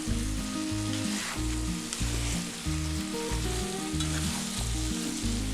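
Chicken cooking in a pot for Kerala-style chicken chukka is stirred, its steady close sizzle carrying under a backdrop of music, with no speech.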